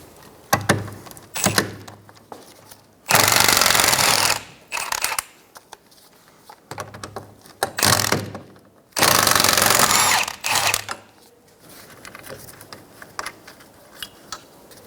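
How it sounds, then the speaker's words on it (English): Mechanic's power tool driving 16mm socket to remove rear sway bar bracket bolts on a 2007-2012 Nissan Altima, in two loud sustained bursts of about two seconds each, separated by quieter clanks and tool handling, no talk. "Using a 16mm socket, we're going to remove the sway bar bracket bolts."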